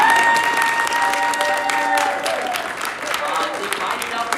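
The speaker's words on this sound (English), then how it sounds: "Everyone give it a round of applause." Loud, sustained applause from a panel audience at an esports expo, dense and even throughout, with cheering and talk layered over the clapping.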